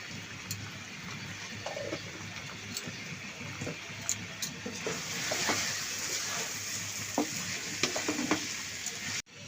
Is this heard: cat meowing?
no